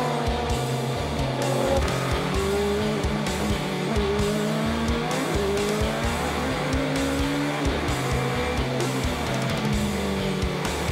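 Super GT race cars running side by side into turn one at Fuji, high engine notes rising and falling through gear changes, loud and continuous with overlapping engines.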